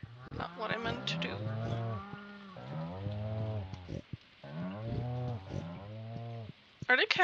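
Cows in the Stardew Valley farming game moo in a series of long, drawn-out, bellowing calls, several in a row with brief pauses, loud and close, ending in a short burst of brighter game sounds.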